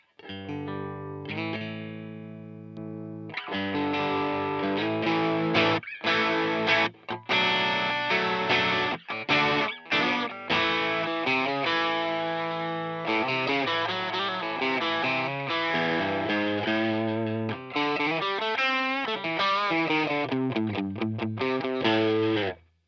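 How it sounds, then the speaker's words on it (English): Green Cuvave drive pedal in a Tube Screamer style, pushing an electric guitar into steady overdriven distortion; sustained chords and riffs ring out loud and continuous for the whole stretch, with only brief gaps between phrases and no voices. "It's a drive pedal. It should be a tube screamer, right?"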